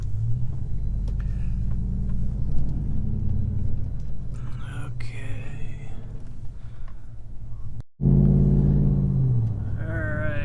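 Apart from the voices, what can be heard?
pickup truck driving on the road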